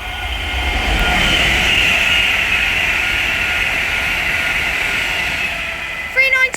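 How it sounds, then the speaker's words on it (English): An Avanti West Coast Class 390 Pendolino rushes past at Bletchley on the West Coast Main Line, a loud swelling whoosh and rail roar that fades, with a voice briefly at the end. "right there is Avanti West Coast Class 390 Pendolino, working service from London Euston to Preston"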